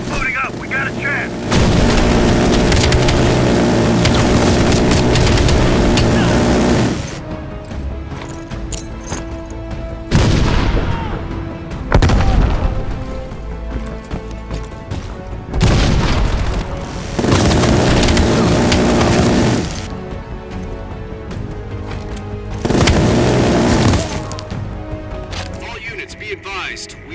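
Bomb strike explosions in Call of Duty: Black Ops Cold War, with several loud, heavy booming blasts in long rumbling waves separated by quieter gaps, and voices speaking in between.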